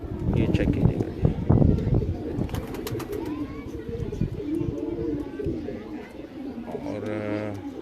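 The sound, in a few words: pigeons cooing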